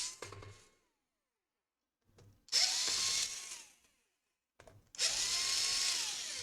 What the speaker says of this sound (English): Here we're gonna unscrew this guy, this guy, this guy, right here.